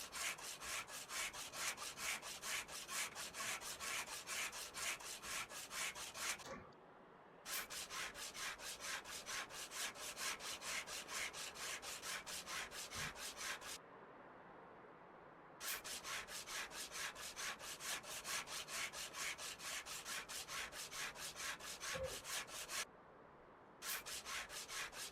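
Sandpaper scrubs over a heavily rusted junk car body in a steady, rapid back-and-forth rasp, loud and close, stopping briefly twice before resuming.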